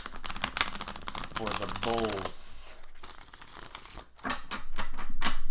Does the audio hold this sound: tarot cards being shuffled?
yes